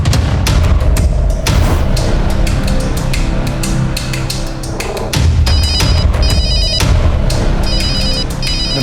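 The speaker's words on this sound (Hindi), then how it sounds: "लड़की के पति का फोन आ रहा है।" A telephone rings insistently with a bright electronic ringtone, repeating in pulses over a loud, dramatic musical backdrop with heavy booming hits, in a TV crime drama.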